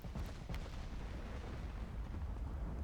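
Booming 18-inch naval artillery shells from battleship guns in the Ultimate Admiral: Dreadnoughts game, a couple of sharp blasts at the start followed by a heavy continuous rumble.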